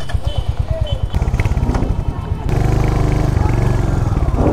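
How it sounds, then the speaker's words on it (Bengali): Royal Enfield Hunter 350 and Kawasaki Z900 motorcycles idle with a low, pulsing engine thrum close by, then swell into a louder, steady rumble as they pull away. "রাইড করবো আমাদের এই হান্টার 350-র সাথে Z900"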